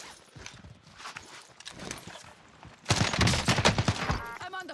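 Gunfire in the video game Warzone, with rapid bursts of shots and a dense, louder volley in the second half, crackling and close, heard alongside in-game sounds.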